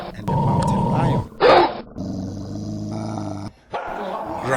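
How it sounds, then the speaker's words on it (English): A dog growls and barks while fighting a mountain lion, harsh snarls and sharp barks coming in loud, close bursts amid a chaotic scuffle, with brief pauses between outbursts. "growling and barking, and attacked the mountain lion"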